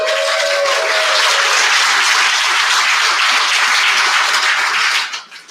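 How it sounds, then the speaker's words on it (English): Dense, loud applause from a large convention audience, sustained for about five seconds before tapering off. "Give yourselves a hand."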